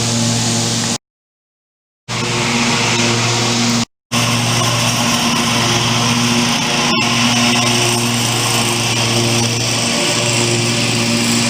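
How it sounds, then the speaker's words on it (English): Steady, loud motorized whine of a neighbor's lawn service equipment, such as a mower or power tool, running continuously nearby with a strong low hum and two brief dropouts early on. "the lawn service for the neighbor just started up"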